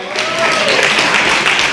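Town hall audience at a district meeting breaking into steady applause, a dense, fairly loud wash of clapping with a voice briefly audible over it.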